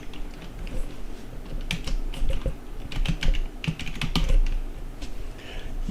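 Someone types a folder path on a computer keyboard, clusters of quick key taps landing in uneven bursts over a low steady hum, fairly close and moderately loud with no voice.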